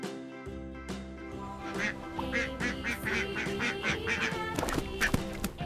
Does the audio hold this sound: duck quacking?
yes